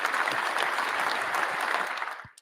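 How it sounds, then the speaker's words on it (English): A short, dense burst of applause rings out evenly, then quickly fades to silence. "that deserves a round of applause"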